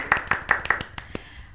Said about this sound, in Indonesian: Sebelumnya kita beri tepuk tangan untuk Kak Andini dan juga Kak Tuhan.